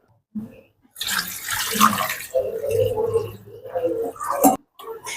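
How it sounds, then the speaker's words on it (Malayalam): Two glasses of water pour onto chicken in a pot in a few splashing bursts, starting and stopping, close by and fairly loud. "ഈ 2 ഗ്ലാസ് വെള്ളം ചിക്കനിലേക്ക് ഒഴിക്കാൻ പോവാം"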